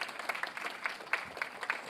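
A small audience claps at a formal World Productivity Day ceremony, giving scattered, fairly quiet applause heard from a distance for a couple of seconds.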